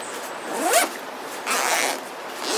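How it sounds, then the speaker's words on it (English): Main compartment zipper on a Kelty Redwing 50 backpack being pulled open, a close, scratchy zip in two or three quick pulls with short pauses between them. "which it zips down pretty far."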